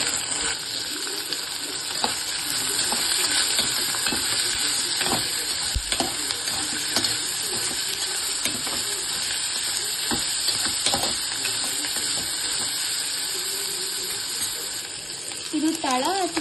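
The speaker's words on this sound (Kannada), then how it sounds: "ನೀಟಾಗಿ ಹುರ್ಕೊಳ್ಳೋಣ." Onions with cinnamon, cloves, ajwain and bay leaf frying in a pan for mutton sambar, a steady close sizzle broken by repeated scraping stir strokes and light clinks, with brief voice sounds near the end.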